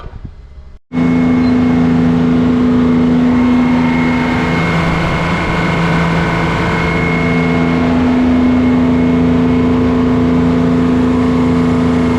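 A vintage bulldozer engine working on a quarry project starts up and then holds a loud, steady, close-up drone with a rough mechanical hum, running without a break to the end.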